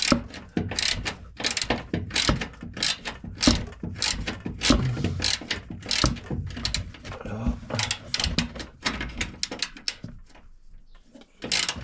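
Hand ratchet wrench with a 13 mm socket loosening a nut on a Dacia Duster during a shock absorber job, giving rapid, close clicking strokes in irregular runs, with someone speaking French at times.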